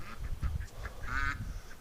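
Muscovy ducks in a straw-bedded barn on a winter day, giving a few short, breathy quacks and hisses close by, with one longer raspy call near the end over a low background rumble.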